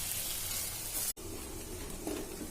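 Crushed garlic sizzles in hot oil in a pan while a Telugu kanda pulusu is cooked. The frying hiss is continuous and soft, with a brief cut near the middle.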